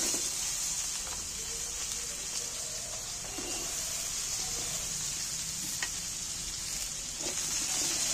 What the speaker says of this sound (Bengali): এখানে আমি এই তেলের মধ্যে আলু আর মূলো কেটে দিচ্ছি